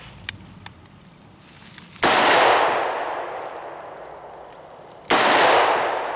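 Loud, sharp shotgun-style blasts from a Taurus Judge revolver firing field loads outdoors at a target, two reports spaced about three seconds apart, each followed by a long decaying echo.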